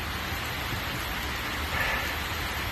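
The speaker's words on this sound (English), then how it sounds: "It is a real full-on storm." Heavy rainstorm heard from inside a church, a steady loud wash of rain noise with low rumble filling the space throughout, no voices.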